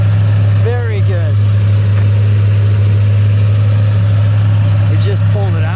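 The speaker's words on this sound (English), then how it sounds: "Let me listen to that cold idle back here." A 1970 Ford Torino with a 429 Cobra Jet Ram Air V8 sits at a cold idle, a loud, steady low drone heard up close while voices speak briefly over it.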